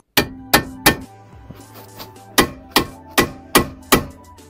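A hammer strikes a Phillips screwdriver to loosen a screw while changing front brake pads on a Hyundai Santa Fe, giving three sharp metallic blows, a pause, then five more evenly spaced hits, close and clear.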